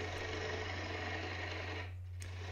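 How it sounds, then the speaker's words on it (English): A wood lathe turns a bowl blank while material is cut from the base, making a steady close whirring hum with broadband cutting noise that drops off briefly near the end. "I can get the lathe speed up. And I'm going to become much more aggressive removing this material at the base of the bowl."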